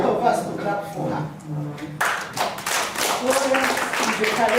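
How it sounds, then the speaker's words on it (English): A workshop audience claps for the project administrator, a burst of mixed hand clapping rising midway and continuing under talking voices. "I want to request all of us to clap for her."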